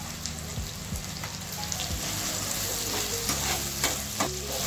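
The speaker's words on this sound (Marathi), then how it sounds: "त्यामध्ये 7 ते 8 काजू घेतले आहेत, ते टाकून ते त्यामध्ये परतून घेऊया" Cashews sautéed in a pan while roasting masala for paneer masala, with a steady sizzle and frying crackle, occasional spoon scrapes and stirring strokes, close and continuous, no voices.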